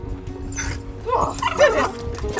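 Several dogs bark and yip excitedly on the deck of a traditional wooden sailing ketch, short close barks with whimpers between them, mixed with shouting voices.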